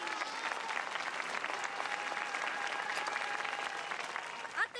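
Supporters applaud steadily at an outdoor pig race, a continuous wash of clapping from a crowd, fairly faint and distant, with a brief extra sound near the end.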